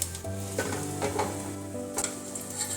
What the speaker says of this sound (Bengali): আপনারা ছোট বড় যেমন পছন্দ সেরকম সাইজের এই বড়াগুলো ভেজে নিতে পারবেন।